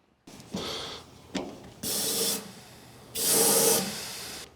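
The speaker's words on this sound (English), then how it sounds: "Now let's blow some air through there and see if we get some fuel coming out." Several bursts of compressed air hiss out in turn through the fuel line of a 1939 Ford truck, short puffs followed by longer loud blasts, close up with quiet gaps between.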